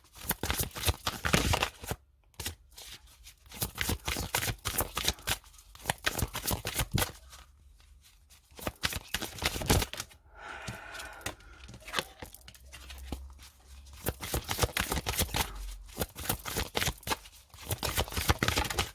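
Oracle cards are shuffled by hand in repeated rapid bursts of riffling and papery rustling, close and fairly loud, broken by short pauses.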